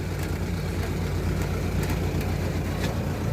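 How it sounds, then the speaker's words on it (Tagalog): Noisy washer-dryer running: steady low mechanical rumble with a constant whirring drone, loud and continuous throughout, with no voices. "tutunog yun ang dryer"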